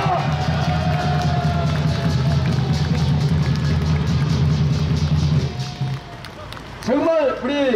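A crowd at a political rally claps and cheers for an honored patriot, producing a sustained, dense roar of hands that fades after about five seconds before a voice speaks.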